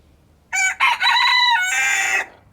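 A loud rooster crows nearby in one long drawn-out call, with chickens clucking around it.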